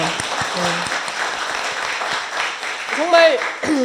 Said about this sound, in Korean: 우리 모두 뜨거운 박수 한번